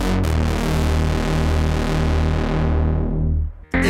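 Moog Messenger synthesizer playing bank 1 sound 1: a dense, loud sustained tone with a pulsing rhythmic modulation that runs steadily for over three seconds before cutting off abruptly.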